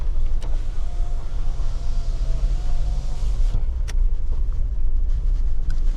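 Mahindra Thar ROXX MX5 2.2-litre diesel automatic RWD SUV driving off-road, heard from inside as a steady loud low engine and road drone with occasional thumps and knocks, no talk.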